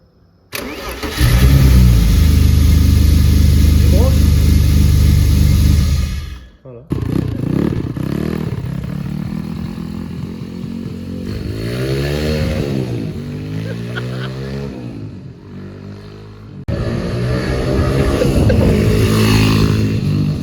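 A BMW E36 drift car with simplified wiring cranks and fires up loudly, revs hard for several seconds, cuts out briefly, then idles and blips the throttle in rising and falling surges, with a voice heard briefly.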